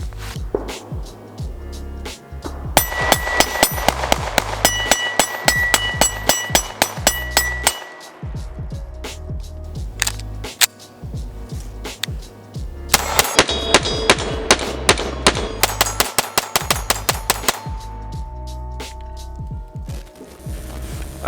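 A Bul Armory SAS2 Viper pistol fires in two long rapid strings of loud, sharp shots at an outdoor range, with a brief pause between bursts.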